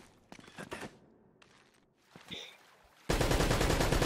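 Gunfire in Uncharted: Drake's Fortune, with sparse shots under scattered talk giving way to a loud, dense burst of automatic fire that fills the final second.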